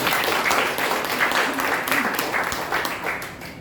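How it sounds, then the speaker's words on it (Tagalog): A congregation at a Sunday worship service claps together, a busy rolling patter of many hands that fades slightly toward the end, with some voices mixed in. "May pwede ba pumalakpak tayo sa ating Panginoon?"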